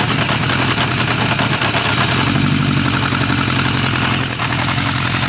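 A 1978 Honda CB550K motorcycle engine idles steadily and loudly up close, with carburetors out of sync and the idle hanging up, in cold late-November air; a continuous rough, even drone with no voices.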